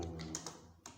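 Several light, quick clicks of typing on a computer keyboard, close and quiet, spread unevenly across a short burst with no voices.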